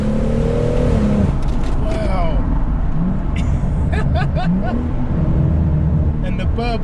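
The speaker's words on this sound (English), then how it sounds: "the burbles with the sports cat" A Stage 2 tuned 450bhp BMW M140i with a sports cat rumbles up close as the engine revs rise and fall, broken by bursts of crackling exhaust burbles, with talk over much of it.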